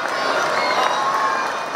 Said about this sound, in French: L'occasion pour la famille princière d'apparaître aux fenêtres du palais sous les applaudissements de la foule.